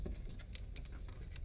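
Small keys jingle faintly with brief metallic taps during a preschool counting game, one sharper clink standing out midway, with no voices over them.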